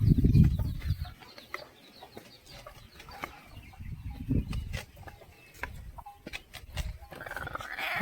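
Country hens in a makeshift coop, some sitting on eggs, let out scattered low clucks and grumbles at close range, with short knocks and rustles between them.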